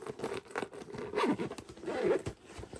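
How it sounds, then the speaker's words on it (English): A zipper is pulled open in short scratchy runs, close and fairly quiet, with rustling of fabric between the strokes. "we have the dual zipper gusset down the middle"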